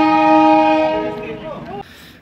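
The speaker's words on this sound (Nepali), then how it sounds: "झन् टोय ट्रेन चाहिँ यस्तो देख्छ यहाँनिर रोडमा" A toy train crossing a road sounds a loud, sustained, multi-toned horn that wavers, fades and then cuts off abruptly, leaving quieter background noise.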